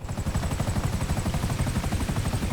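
A helicopter in GTA 5 flies steadily, its rotor thumping in a fast, even rhythm under a constant engine whine, loud and continuous with no talk.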